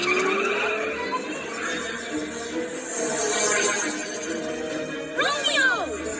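A remote control car skids and crashes amid lively background noise, with a sharp squealing burst near the end and people talking throughout.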